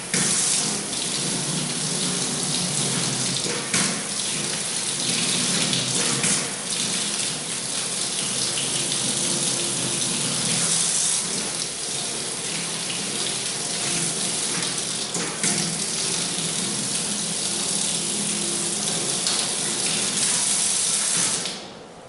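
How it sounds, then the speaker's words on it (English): Tap water runs steadily into a sink for a long stretch as soap is rinsed off the hands and forearms during a surgical scrub, a close, continuous splashing gush with no talk. "Now it is time to rinse the soap off my hands"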